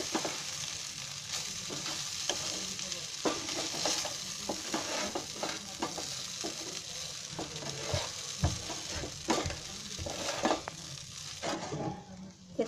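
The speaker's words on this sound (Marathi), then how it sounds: "पोहे टाकल्यावर गॅस एकदम बारीक करायचा आणि असे चांगले हलवून घ्यायचे" Flattened rice (poha) with potato being turned in a pan over very low gas, a soft continuous sizzle punctuated by repeated scraping strokes of the spoon against the pan.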